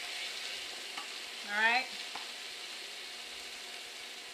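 Braised chicken frying in a pan, a steady sizzle running throughout with a brief louder swell of popping and spattering midway, close and fairly quiet, with a short spoken word.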